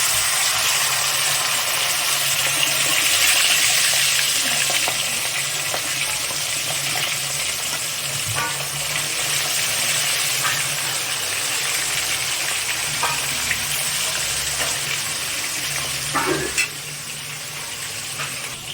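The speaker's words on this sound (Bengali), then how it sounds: "এবার আস্তে আস্তে মাছগুলোকে আমি তেলের মধ্যে ফেলে দিচ্ছি" Pieces of pomfret fish are lowered one by one into hot oil, giving a loud, continuous sizzle with scattered crackles and pops that eases slightly near the end.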